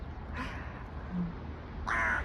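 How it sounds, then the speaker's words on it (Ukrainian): A crow caws twice on a drizzly city street, two harsh bursts about a second and a half apart, the second louder and nearer, over low traffic hum. "Дивіться, яка невдоволена птаха."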